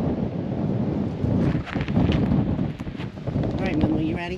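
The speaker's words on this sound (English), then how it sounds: "There comes the wind." Gusts of wind buffet the microphone at a desert trailhead, roaring and rustling in uneven surges while a person talks briefly.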